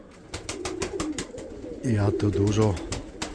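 Male pigeons coo loudly in a rhythmic burst of deep, throbbing calls in the second half, after someone speaks briefly over faint taps and clatter.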